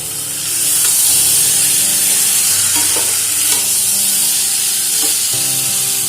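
Fried new potatoes and boiled green peas being stirred in a hot pan, with a loud steady sizzle and hiss and the scrape of a spatula turning them several times.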